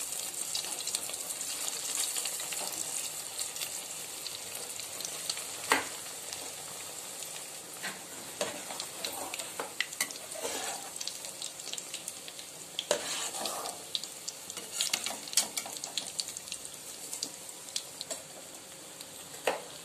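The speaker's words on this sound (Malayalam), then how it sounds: "കുറച്ച് എണ്ണയിലിട്ടിട്ട് നമുക്കിത് ഫ്രൈ ചെയ്തെടുക്കാം" Bread pocket shawarma pieces fry in a little oil with a steady broadband sizzle, broken by scattered crackles and brief clinks, close and moderately loud with no talking.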